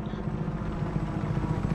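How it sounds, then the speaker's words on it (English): Helicopter in the video game Just Cause: a continuous rotor chop with a steady low throbbing thump, close and loud, with no talk over it. "I can get a helicopter from here."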